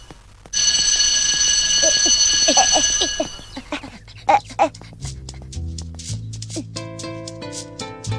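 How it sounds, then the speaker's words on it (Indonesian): A school bell rings with a loud continuous electric tone for a couple of seconds, then stops, followed by scattered thuds and a sustained musical tone. "Sudah bel sekolah."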